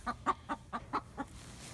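Six quick, soft clucks from a chick in a steady rhythm, fairly close, with quiet background and no talking.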